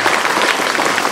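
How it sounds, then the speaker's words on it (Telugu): A group of children clapping their hands loudly in a classroom, a dense, continuous burst of applause that stays strong from start to finish. "గట్టిగా కొట్టాలి క్లాప్స్ అంతా కూడా"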